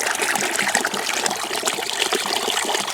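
Water pours steadily into a 5-gallon bucket of wood pulp and coffee grounds, a loud close continuous gushing trickle with no talk.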